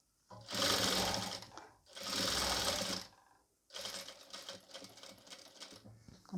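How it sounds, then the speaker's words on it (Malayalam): Close sewing machine stitching nighty fabric pieces: two steady bursts of rapid mechanical whirring, a brief pause, then a longer uneven run of stitching. "അടുത്ത പീസും അതേപോലെ നമുക്ക് വെച്ച് സ്റ്റിച്ച് ചെയ്ത് കൊടുക്കുക"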